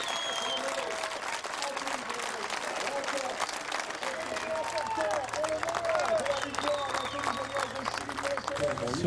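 Home crowd applauding and cheering a French driver's win at a round 4 truck race at Nogaro, a dense steady wash of clapping with voices mixed in throughout.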